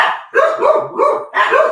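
A dog barks three times at close range, loud, sharp yelping barks spaced about half a second apart, with no talking over them.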